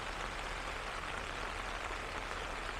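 Rain falls at a mountain campsite as a soft, even hiss, steady and faint throughout with no other sounds.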